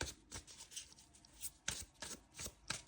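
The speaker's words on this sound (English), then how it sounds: "I always forget to show you that I am shuffling the cards." Tarot cards are shuffled softly in a steady run of short, rhythmic slaps and riffles, quiet and close, with no talking over them.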